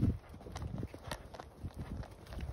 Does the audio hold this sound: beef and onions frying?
no